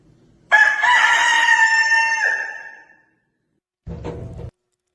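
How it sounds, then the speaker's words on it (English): A rooster crows once, loud and close, in a long drawn-out call that trails off, followed after a pause by a short low noise. "That's a really, really nice chicken."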